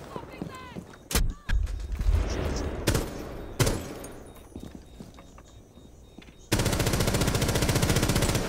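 Rapid automatic gunfire from a first-person shooter erupts in loud sharp bursts, with a sustained stream of shots near the end and a voice talking over the action.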